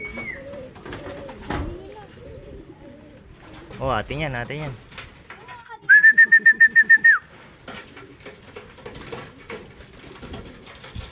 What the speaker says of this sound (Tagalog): Ang dami nang dumating na ibon natin.